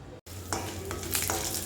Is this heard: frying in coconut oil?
yes